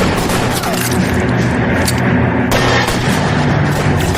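Sustained gunfire in L.A. Noire: a dense, loud barrage of overlapping shots and booming reports that barely lets up, with sharper cracks standing out from the continuous roar.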